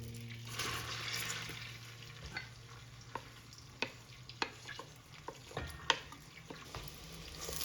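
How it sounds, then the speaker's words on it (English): Onions sautéing in vegetable oil with butter, a low sizzle under several sharp spoon taps and scrapes against the pan, close and without talk. "we are going to saute the onions"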